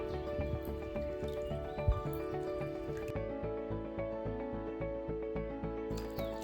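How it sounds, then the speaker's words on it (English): Three raw eggs are beaten in a bowl, with quick, rhythmic wet clicking and squishing strokes over soft background music, close and moderately quiet. "I have broken the 3 eggs into a bowl. Now I shall beat it properly."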